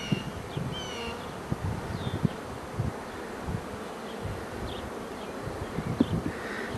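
Honey bees buzz around an open hive on a farm during an inspection, a steady dense hum with individual bees droning past up close, rustling underneath, no voices.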